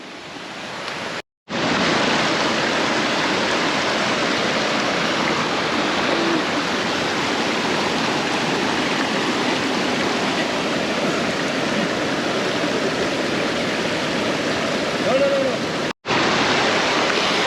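A jungle river rushing by up close, a constant broad hiss of flowing water that runs almost unbroken, briefly cut near the start and again near the end.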